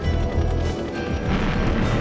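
A remote mine detonating in the N64 game GoldenEye 007 gives a loud, sustained rumbling boom that fills the whole stretch without a break.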